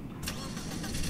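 A car engine turns over and catches in a World War II German Afrika Korps roleplay game, a brief loud mechanical burst with steady engine rumble beneath and soft talk.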